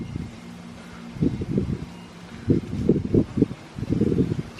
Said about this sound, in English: Sorry about the wind noise there.